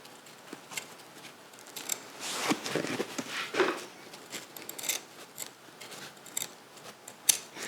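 Scissors snip and trim material on a custom Knicks-themed Jordan 4 sneaker, a series of quiet, close, irregular crisp cuts and clicks with no talking.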